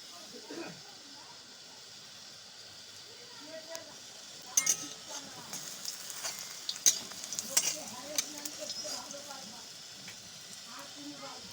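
Malabar spinach fritters frying in a pan of hot oil give a soft, steady sizzle, with occasional clinks of a utensil as the fritters are stirred and lifted out.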